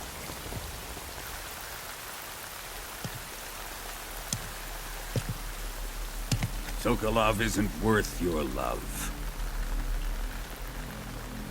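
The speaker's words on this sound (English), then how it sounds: "You can entertain me until the rain stops." Steady rain falls on surfaces in a Metal Gear Solid Delta: Snake Eater cutscene, a constant patter with occasional heavier drops, while characters speak over it.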